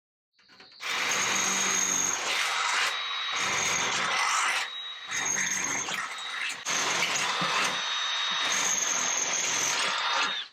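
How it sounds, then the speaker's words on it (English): Drill bit chasing holes in a mini truck wiper cowl, loud whining bursts of grinding metal with brief pauses and changes in pitch. "I'm going to chase these holes with this drill bit"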